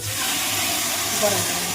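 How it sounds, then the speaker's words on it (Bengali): Hot water poured onto fried rice in a pan while cooking pulao, giving a steady, fairly loud hissing sizzle that runs unbroken from start to finish. "চাল ভাজা হয়ে গেছে, এবার আমরা জল দিয়ে দিচ্ছি,"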